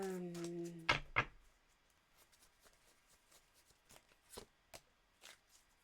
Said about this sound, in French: je remets les cartes dans l'ordre